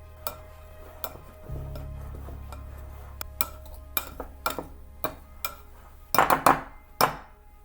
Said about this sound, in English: Now let's get our pastry blender and mix this all up.